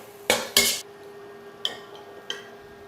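Minced pork, egg and spring onions tossed in a pan during a Chinese-style stir fry: two loud metallic clatters close together, then two lighter scraping knocks, with no talking.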